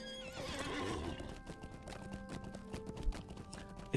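A horse in the Lord of the Rings Online game gallops with quick clip-clopping hooves and lets out a clear neigh near the start, the hoofbeats continuing fairly quietly under faint game background sounds.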